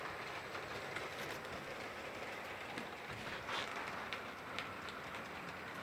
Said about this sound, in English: Here she comes. This is a nice loco, I love this one.